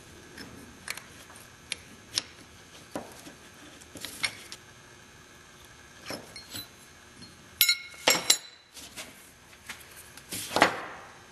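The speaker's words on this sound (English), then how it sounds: "We'll get a wrench and tighten that up." A metal wrench tightens a Schrader valve into an AN fitting, making scattered sharp clicks and clinks at irregular intervals, with a louder cluster of metallic ticks near the end; no voices.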